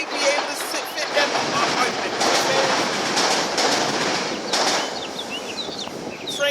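A train rolls past on a railway nearby with a steady, broad rumble and rattle through the whole stretch, while birds chirp faintly in the background.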